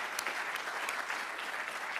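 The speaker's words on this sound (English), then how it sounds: "Another round of applause for them." Brief burst of audience applause for volunteers at a library conference wrap-up session, many hands clapping steadily at moderate volume for a couple of seconds.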